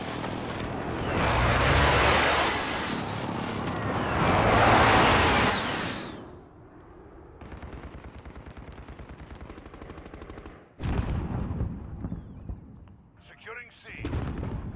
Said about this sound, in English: Enemy precision airstrike inbound.